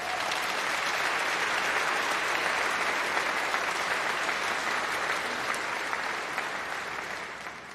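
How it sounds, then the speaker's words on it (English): Sustained audience applause fills a graduation congregation hall, a dense steady patter of many hands clapping at moderate distance with no voices over it, slowly tapering toward the end. "can we have a round of applause for all those that make this place great?"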